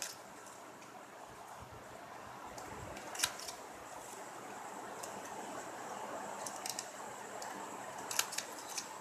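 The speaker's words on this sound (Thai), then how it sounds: "ก็ใช้กรรไกรตัด" Scissors snip through ribbon a few times while folding a ribbon coin ornament, with soft sharp clicks and a brief crisp cut standing out against a quiet room, and no talking.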